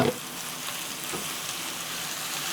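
Leftover cooked rice sizzles steadily in a hot pan with sauteed vegetables, a close, even crackle of frying with faint stirring and no voices.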